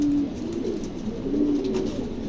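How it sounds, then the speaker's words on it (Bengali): A pair of Roman pigeons coos softly and repeatedly in a quiet indoor setting, low murmuring calls with no talking. "চমৎকার একজোড়া রোমান গাল আছে।"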